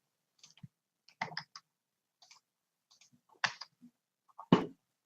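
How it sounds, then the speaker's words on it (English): Sparse clicks from a computer keyboard, a few quiet taps and short bursts of keystrokes spaced irregularly across a silent background. "let's start typing in cats"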